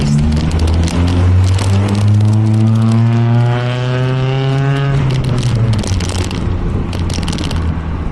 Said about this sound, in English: Pull over, let this car past.